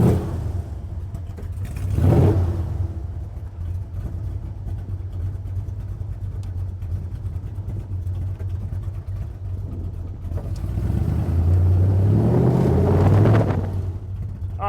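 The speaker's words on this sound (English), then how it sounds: "we're out here in the 1965 Shelby Cobra, and man, is this thing a dream to drive" Engine of a 1965 Shelby Cobra CSX3010 tribute car on the road, a steady mid-pitched drone with two rising revs, one early and a stronger one near the end, heard from inside the car.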